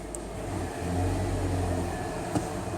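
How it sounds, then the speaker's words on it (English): A vehicle with an A750F automatic transmission starts up in park with the handbrake on, its engine catching into a steady low rumbling idle that fills the short stretch without voices. "Okay, we're in the vehicle, handbrake on, in park, start it up"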